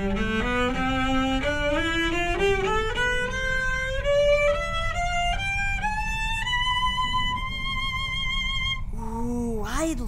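A solo cello climbs step by step through its four-octave range, each bowed note rising higher in a steady ascending run before a final sliding phrase at the top.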